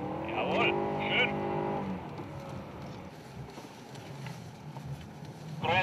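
A BMW M3 E90/E92 on a driving-school track in extreme weather revs hard for a couple of seconds with a rising engine note, then fades into a softer rushing roar of tyres and wind.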